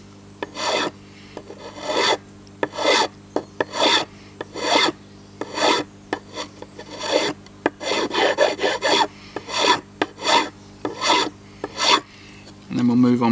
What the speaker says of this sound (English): So I'm going to really gently use a file to start with, just to see if I can get these burrs out.